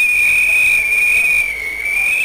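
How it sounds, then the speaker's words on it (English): A single steady, shrill whistle tone held for about two seconds, loud and clear with a slight dip in pitch near the end, standing alone without any talk. "whistle"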